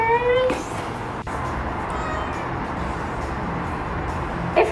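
A cat meows during a haircut, a short rising cry near the start and a faint one later, over a steady background hum with a brief click partway through.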